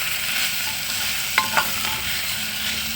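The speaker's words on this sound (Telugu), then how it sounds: "రైస్ వేసుకొని బాగా కలుపుకోవాలి" Rice being stirred into spiced potato khichdi in a hot pan, a steady sizzling hiss throughout with two brief scraping clinks of the spoon against the pan midway.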